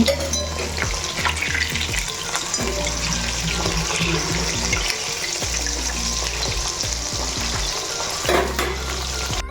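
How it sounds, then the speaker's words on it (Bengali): Fish fries in a wok, a loud, dense sizzle and spatter held close throughout, with occasional stirring clatter and no talking. "তো চলো মাছগুলো ভেজে নেওয়া হোক কারণ রান্না তো করতে হবে"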